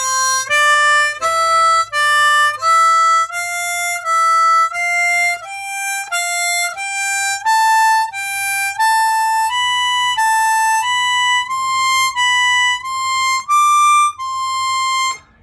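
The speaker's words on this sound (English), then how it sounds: "The whole pattern together would sound like this." Harmonica slowly working through a major-scale pattern, single notes rising and falling in small steps and climbing gradually higher, evenly spaced and sustained; close and clear with a faint low hum underneath, no talking.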